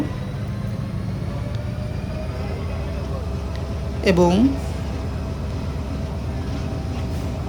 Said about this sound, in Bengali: আমাদের ট্রেন ছুটে চলছে, একেবারে সামনের বগি থেকে দেখছি